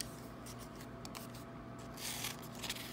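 Scissors snip through folded paper while cutting a snowflake, a faint, close series of soft crisp cuts and rustles, with a brighter crunchy stretch of cutting toward the end.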